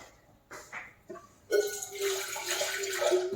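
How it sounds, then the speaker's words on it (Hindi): Water splashes into a glass being rinsed in a home kitchen, a few soft taps and clinks first, then a steady close stream of running water. "थोड़ा ऐसे ही पानी से छाल देती हूँ मैं इसको"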